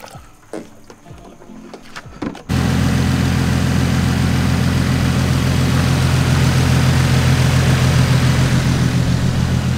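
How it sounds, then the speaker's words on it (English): A Nissan VQ V6 car engine catches at start-up after a few quiet seconds of handling noise, then idles loudly and steadily at close range with a constant low hum and no talk. "So we got the car running"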